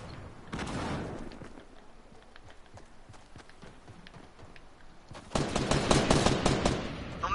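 Rapid gunfire in the Fortnite video game, bursts of quick repeated shots, a shorter volley early on and a louder, denser string of shots near the end, with sparse single cracks in between.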